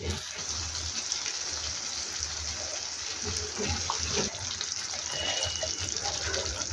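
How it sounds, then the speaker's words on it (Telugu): Tomato-style gravy poured from a vessel over boiled eggs in a pan for egg curry, a steady watery gush with soft splashing at close range, continuous throughout with no talk. "కదిలించకుండా ఈ గ్రేవీని ఎగ్స్ మీదకి ఇలా వేసేయాలి."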